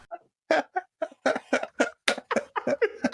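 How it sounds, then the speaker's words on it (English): A rapid run of harsh, close coughs, about a dozen sharp bursts in quick succession with only brief gaps between them. "Can't stop coughing"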